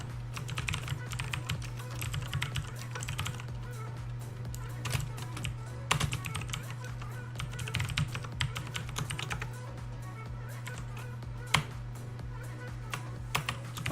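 Computer keyboard typing in bursts over a constant low electrical hum, keys clicking close by at an uneven pace with occasional sharper taps.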